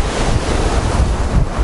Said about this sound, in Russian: Меня накрыла волна